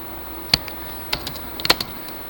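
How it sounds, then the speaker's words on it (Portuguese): A couple of sharp, faint key presses on a computer keyboard, Ctrl+Enter, with a few lighter taps around them against a quiet room hiss. "Vou dar um Ctrl Enter aqui."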